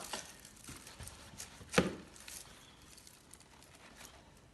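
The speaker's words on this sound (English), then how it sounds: "I'm going to trim the roots." A knife trims the roots off a large, heavy exhibition-grown onion on a board, giving one crisp, firm cut among soft, faint handling noises.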